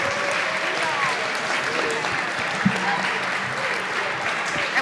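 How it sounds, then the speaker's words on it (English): An audience at a Bill and Ted's Excellent Adventure princess panel at the NJHC 2019 convention gives a sustained round of applause, steady dense clapping with a faint voice briefly audible underneath. "give these lovely ladies a nice round of applause"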